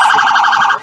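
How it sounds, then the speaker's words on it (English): A loud, close emergency vehicle siren at a Christmas parade in Chipley, Florida blares in a steady high wail for under a second before cutting off. "talk between the blast of the sirens"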